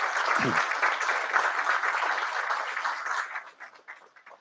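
Applause from a roomful of guests at a triathlon-themed wellness dinner, a dense sustained clapping that holds steady for several seconds before thinning out and tapering off.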